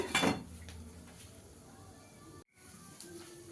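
A lid is set onto a cooking pan holding a fish curry, one quick metallic clatter right at the start, then quiet kitchen background.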